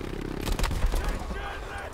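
Video game gunfire in Battlefield V crackles in a dense, loud burst of overlapping shots lasting about a second, while a voice talks.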